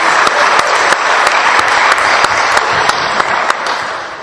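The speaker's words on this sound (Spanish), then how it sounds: "Démosle un aplauso a los que son un solo cuerpo." Applause fills a church gathering, a sustained steady clapping from the congregation with a few sharper claps standing out, loud and continuous throughout.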